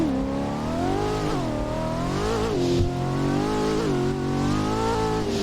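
A 1000 hp Fiat Multipla accelerating hard with wheelspin, its engine loud and close, revving with rising harmonic sweeps through several gear changes and a sustained strained roar throughout.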